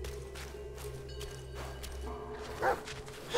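A dog barks in the action game Black Myth: Wukong, giving a couple of soft, distant barks over a steady low game ambience with a dull thump near the end.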